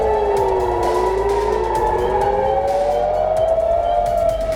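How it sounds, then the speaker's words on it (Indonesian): Warning sirens wail loudly across Israeli cities, including around the main port of Haifa, in a long rising and falling electronic tone that carries on continuously over low traffic rumble. "Sirine peringatan berbunyi di berbagai wilayah termasuk di kawasan pelabuhan utama di Haifa."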